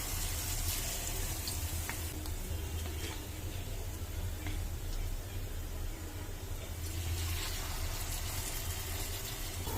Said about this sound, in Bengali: তো এখন এই ডোটার ভিতরে এভাবে পাউরুটিগুলো চুবিয়ে চুবিয়ে একটু ভেজে নিব।